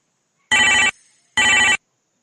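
A phone rings in two short, loud electronic bursts separated by a brief pause, heard close up.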